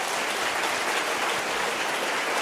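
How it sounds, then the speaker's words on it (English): Conference audience applause fills a hall, a dense, even wash of many hands clapping steadily and close, with no voices over it. "Can we give them a big round of applause?"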